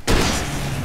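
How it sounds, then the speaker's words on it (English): A single loud, close gunshot in the video game Alan Wake hits with a sharp attack, then leaves a long, booming decay. "Yep, I shot him."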